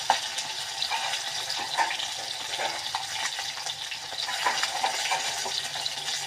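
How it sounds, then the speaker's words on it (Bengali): Fish frying in a pan of hot oil while cooking a Bengali fish curry, a steady close sizzle with stirring and spatula scrapes running throughout, no talking. "তো মাছগুলো ভেজে নেব"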